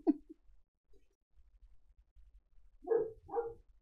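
A couple of muffled dog barks, one early and two close together near the end, faint and heard through a wall or door.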